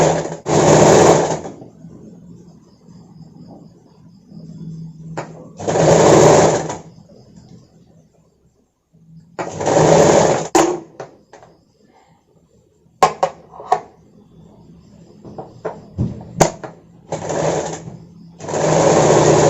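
Sewing machine stitching the waistband of a bra-cut katori blouse, with short bursts of close mechanical whirring between pauses and light clicks of fabric and machine handling.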